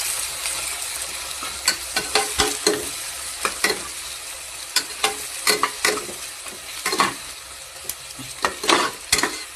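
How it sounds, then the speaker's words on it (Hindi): Onions fry in hot oil until brown for a country-style chicken dish, with a constant sizzle broken by repeated scraping, clattering strokes of a spatula stirring the pan. "प्याज पूरा ब्राउन कलर हवा पर्यंत भाजवा।"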